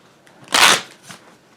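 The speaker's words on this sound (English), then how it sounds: "And now I have to shuffle the deck" A deck of Onirim cards is shuffled once, giving a quick, close riffle burst of under half a second followed by a faint softer flick.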